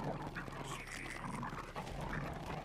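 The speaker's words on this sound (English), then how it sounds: "Even with my knife still plunged deep into its head, the black dog tightens its jaw further." A black dog in the Tsukihime game bites down and growls, a low, rough, continuous snarl with panting breaths, close and sustained for a few seconds.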